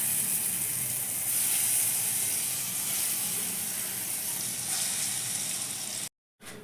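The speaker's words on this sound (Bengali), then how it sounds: "এবার আমি পরপর আর যে বাকি ধোকাগুলো আছে সেগুলোকে এবার আমি আবার এইভাবে ভেজে নেব" Lentil cakes (dhoka) frying in hot oil in a pan, a steady, loud sizzling hiss that continues unbroken, then cuts out abruptly near the end.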